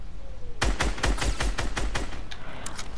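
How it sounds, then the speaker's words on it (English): Rapid gunfire in the Fortnite battle royale arena duos mode, a close burst of sharp repeated shots for about a second and a half, then scattered fainter pops trailing off. "I'm getting shot at!"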